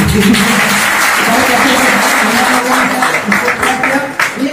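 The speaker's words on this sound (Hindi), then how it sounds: "ट्रेनर भी एक बार ताली बजाते" Trainers and attendees clap together at the closing ceremony of a special-education teachers' training in Sarnath, Varanasi: a steady, dense applause that fills the room, with voices mixed underneath.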